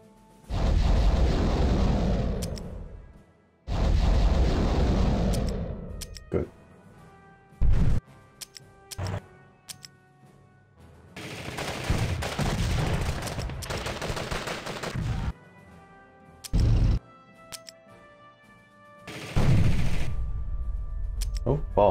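Booming artillery fire from the People's General strategy game, several loud bursts of blasts and rumbling impacts with short gaps between, filling most of the span.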